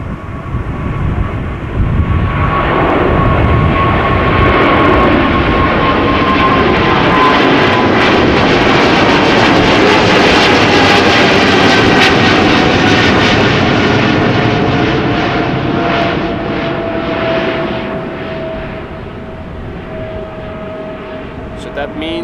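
A fixed-wing airliner takes off from Schiphol's Kaagbaan runway in gusty westerly wind, its engines building to a loud, sustained roar that peaks mid-clip and slowly fades as the aircraft climbs away.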